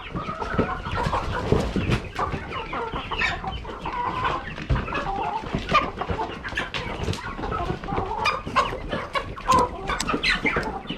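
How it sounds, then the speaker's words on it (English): Farm chickens of several breeds, among them leghorns and silkies, cluck and squawk continuously nearby, a busy overlapping chorus with no talking. "we have a lot of chicken breeds in here"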